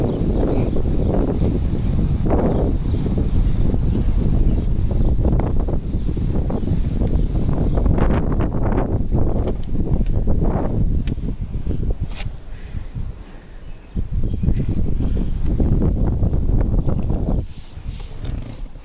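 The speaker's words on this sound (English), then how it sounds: "It's really windy too." Strong outdoor wind buffets the microphone almost continuously, a loud low roar with gusty swells that dips briefly before surging again.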